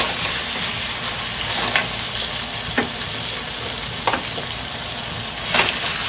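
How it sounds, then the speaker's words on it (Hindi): Minced meat keema for Pakistani khara masala keema fries in a pan, a continuous loud sizzle broken by a few short stirring scrapes, with no voices. "इसको भुनेंगे।"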